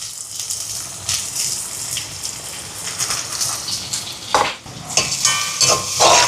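Chopped garlic and green chillies fry in hot oil for vegetable patties, a bright sizzling hiss broken by a few scraping stirs of a spoon near the end.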